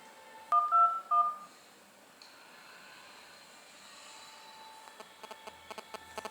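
Keypad dialing tones on a Nokia Asha 502 dual-SIM phone: a few short, bright beeps near the start, then a quiet stretch and a string of faint, quick clicks and tones toward the end.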